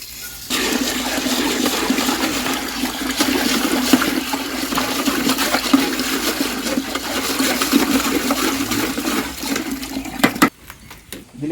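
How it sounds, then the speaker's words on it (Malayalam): Water pours steadily onto rock salt in buckets in a loud, continuous rush for about ten seconds, then stops abruptly, followed by a few faint knocks. "ഇനി നമുക്ക് നന്നായി വെള്ളം ഒഴിച്ചിട്ട് ഇതിനെ മിക്സ് ചെയ്യാം"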